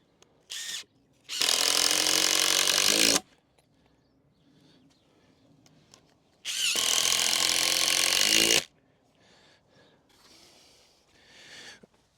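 A power drill drives screws into a polytunnel frame at an allotment. Two loud, close whirring bursts of about two seconds each are separated by quiet handling noises, with a short blip beforehand.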